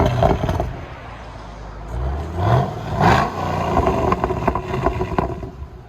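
A 2015 Chevy SS with a 6.2L V8, dual exhaust and resonator delete, idling with a rough rumble before rising through a couple of quick revs, heard close from outside.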